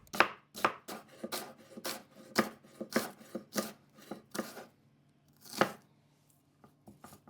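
A knife slices an onion thinly on a board, with a quick run of crisp cuts, a short pause and then a few more scattered cuts.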